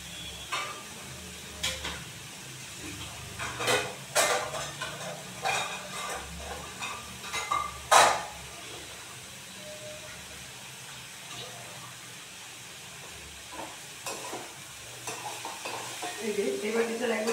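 Spice paste sizzling in a pan for a vegetarian banana flower curry, with a spoon scraping and stirring in irregular bursts over a low steady frying hiss.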